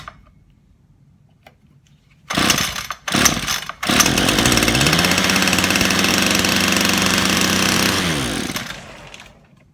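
A two-stroke whipper snipper with a suspected fault is pull-started: two short bursts of cranking, then the engine catches and runs loud and steady close by for several seconds, easing off at the end.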